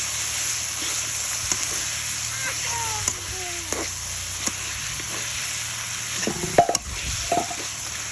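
Meat is sautéed and stirred in a pan, a steady sizzle under light spoon scrapes and knocks that grow busier toward the end, with faint voices in the background.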